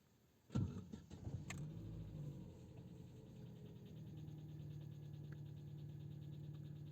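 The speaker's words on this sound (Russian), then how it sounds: "Сейчас запущу двигатель." A car engine cranks and catches during a diagnostic session with a MUCAR BT200 Max scanner, a sharp starter burst followed by a steady low idle that carries on quietly to the end.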